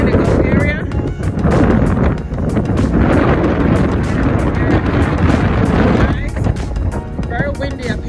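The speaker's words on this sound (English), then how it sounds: "Very windy up here." Strong wind roars across the top deck of the Carnival Sunrise cruise ship near the mini golf area, loud and steady buffeting of the microphone throughout, with a person talking over it.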